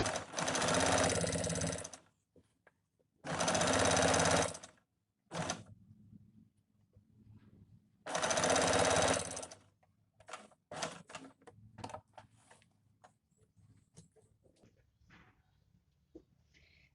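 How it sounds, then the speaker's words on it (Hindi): Sewing machine stitching a strip onto the side of trousers, three loud sustained bursts of stitching separated by pauses, then shorter stop-start runs and clicks of handling, close up with no voices. "इस तरह से साइड मिलाते हुए और इस तरह से इसमें एक पैर की सिलाई लगा लेंगे।"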